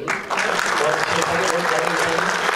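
Applause at a press conference for a film awards jury, a dense burst of hand clapping from a seated crowd that starts almost at once and keeps up at an even, loud level.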